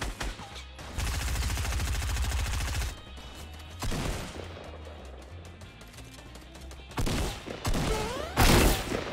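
Rapid gunfire bursts in Fortnite: Battle Royale come in several loud clusters, some sustained and some short, with quieter stretches between.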